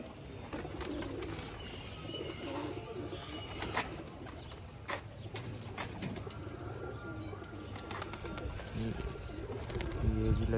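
Pigeons at a pigeon club coo in soft, overlapping, repeated calls close by, with scattered chirps and flutters and faint background voices.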